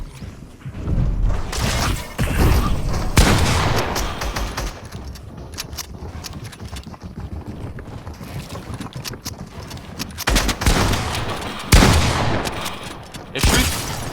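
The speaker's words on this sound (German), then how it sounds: "Er schießt!" Gunfire in the Fortnite video game crackles in bursts of sharp shots, with loud clusters near the start and again toward the end over a busy, noisy game soundscape.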